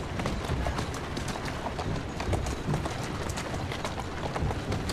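Horse hooves trot at a steady, brisk rhythm in Assassin's Creed Syndicate, a continuous run of clip-clop beats held close and loud over a dense backdrop of game ambience.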